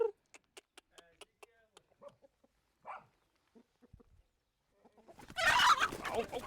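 Scattered clucks and squawks from chickens on a farm in Africa, followed by a sudden loud flurry of flapping and agitated squawking at the end.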